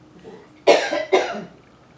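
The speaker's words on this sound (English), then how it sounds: "I have to cough." Two dry, hacking coughs in quick succession, close and fairly loud, with quiet pauses around them.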